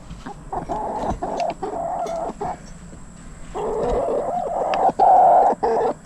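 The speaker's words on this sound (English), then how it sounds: "my little chicks that I put in the chicken Taj Mahal" Young chicks in a chicken coop cluck and peep in repeated bursts, close and fairly loud, with short pauses between calls and no talking.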